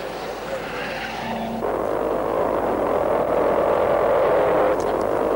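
1953 race of 500cc cars powered by motorcycle engines, mostly built by John Cooper's firm at Surbiton, with a steady droning engine roar that swells slightly partway through and holds without a break.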